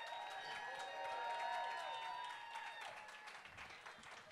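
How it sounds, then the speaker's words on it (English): Applause from a live improv comedy audience in New York as the cast comes out, faint and somewhat distant, with steady clapping that swells and then slowly thins out, plus tonal music or feedback running underneath. "Give them a nice warm round of applause."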